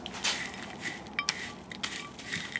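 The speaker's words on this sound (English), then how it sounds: "Then add in 1/2 cup of roasted unsalted peanuts, more or less." Half a cup of roasted unsalted peanuts pours into a dry oat mixture in a bowl, making close, crunchy rattles and crackles with a few sharper clicks over a couple of seconds.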